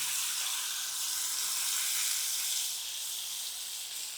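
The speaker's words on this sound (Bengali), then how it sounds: "এবার আলুগুলোকে আমি একটু ভালো করে ভেজে নেব।" Potatoes sizzle steadily in hot oil with black cumin and dried chilli, a dense, close frying hiss that holds evenly throughout and fades slightly near the end.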